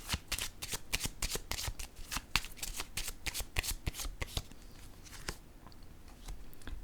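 Cards handled during a card reading, heard as a rapid series of crisp close-up flicks and riffles, then sparser single snaps toward the end, faint and without talking.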